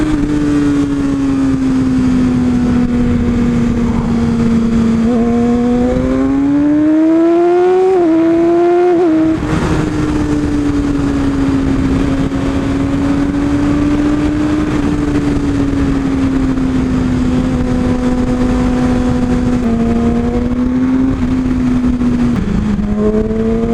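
A Yamaha R6 sport motorcycle accelerating hard, its high engine whine climbing through gears with a brief drop and rise, loud and close for the whole stretch, with no talk.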